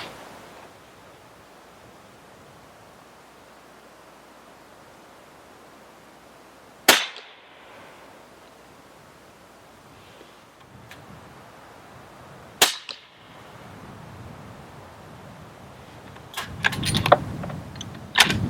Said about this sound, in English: shooting at 50 yards